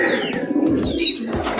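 A Katta Mooku homer pigeon from Pondicherry gives a close, clear cooing call, a short run of throaty warbling notes laid over faint background bird chirps.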